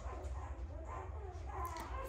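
Faint whimpering and soft whining from week-old pit bull puppies, several short high cries over a low background hum.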